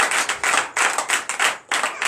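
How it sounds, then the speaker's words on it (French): A church congregation at a night deliverance and prophecy service claps loudly in bursts of rhythmic, fairly close hand claps, with no talking. "Donc je vous demande d'applaudir très fort."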